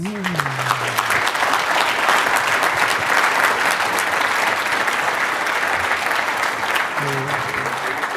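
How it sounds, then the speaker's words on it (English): A conference audience gives a presenter a long, loud round of applause, a thick continuous wash of clapping hands that holds steady throughout, with a voice briefly audible at the start and again near the end. "Let's give John one more big round of applause"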